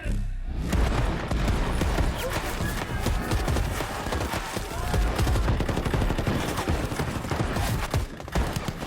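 Dense, continuous gunfire sound effects crackle through a school stage show's war scene, rapid bursts layered with booms and overlapping shouting voices in the mix.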